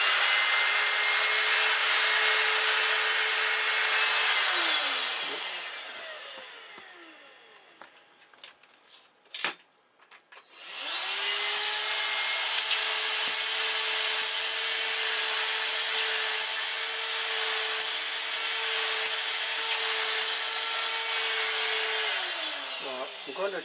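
A Dyson DC16 handheld vacuum cleaner with an extension attachment runs close by as a loud steady whine, winds down to near silence with a brief clatter, then spins back up and holds its high suction tone.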